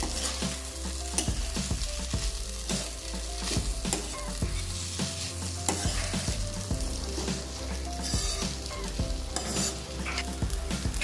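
Soaked sabudana stirred in a hot frying pan, sizzling steadily while a spoon scrapes and knocks against the pan in a continuous rhythm, close up and with no one talking.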